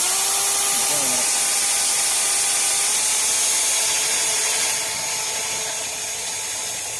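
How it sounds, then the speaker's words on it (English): A quarter inch drill grinds steadily through glued grill parts, a constant high whine that eases slightly in pitch and loudness toward the end. "the quarter inch drill works fine for these"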